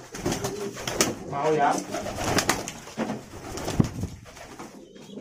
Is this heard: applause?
no